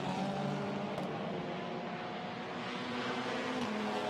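A TCR Europe touring race car runs at speed past the trackside at the Spa circuit, a steady droning engine note held at moderate distance with no voices.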